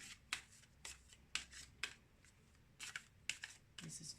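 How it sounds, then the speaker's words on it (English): Soft riffling and snapping of cards being shuffled several times, quiet and close, with brief pauses between bursts. "So I'll just give the cards another shuffle."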